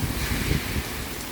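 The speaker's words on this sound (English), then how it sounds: "Are you waiting for a break in the rain to run away?" Rain falls steadily outdoors, a dense broadband hiss with some low rumbling from wind, close and continuous with no voices.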